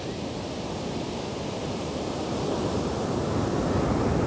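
A steady, full roar of surf rolls on without pause, swelling slightly toward the end, with no voices.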